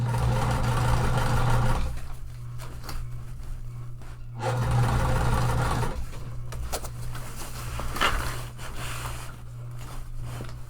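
A sewing machine runs in bursts while topstitching a tote bag, its motor whirring and droning loud and close, pausing briefly between stretches of stitching.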